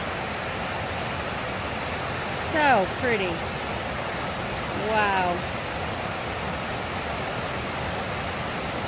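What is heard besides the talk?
waterfall cascade along the Housatonic River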